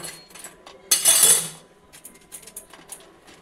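Pieces of deep-fried baby corn clink and rattle against a metal utensil, a quick burst of bright metallic clatter followed by scattered lighter taps, close up in a home kitchen.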